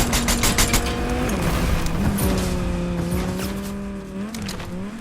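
Car engine hums at a steady pitch while tires squeal in bursts during a Fortnite zero build battle royale match, with gunfire popping at the start; loud and close, with no voices.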